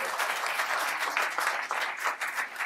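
Steady audience applause for tango musicians at a live concert, dense clapping at close range with slight swells and dips.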